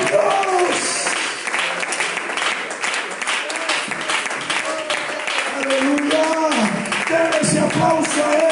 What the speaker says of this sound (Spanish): Aplauso a él esta mañana.